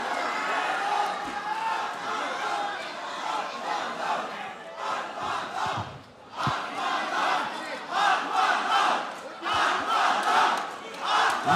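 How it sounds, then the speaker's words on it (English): A large crowd roars and shouts at a grappling match, surging in loud swelling waves with a brief dip midway, while a commentator's voice talks over the din. "Listen to the crowd, man. Yeah, the crowd have lost their minds here."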